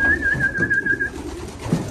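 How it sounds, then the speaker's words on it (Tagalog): Pigeons coo in a breeding aviary during pre-pairing, low throaty calls repeating close by under a steady chorus of birds, with a thin high whistle running through the first half. "Ayan sila mga kalapatids."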